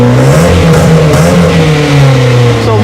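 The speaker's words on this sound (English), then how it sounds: "So this is how it sounds with the stock exhaust and only the manifold" Ford Focus offroad build with stock exhaust, a Dynovox header and no mufflers, its engine revving loud and raw, right up close and steady throughout with no voices.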